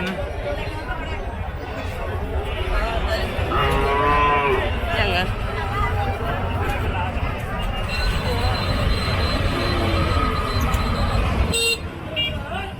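Cattle lowing amid a noisy outdoor livestock market in Kharangkhali, Teknaf, Bangladesh, with people talking throughout and a vehicle horn tooting near the end.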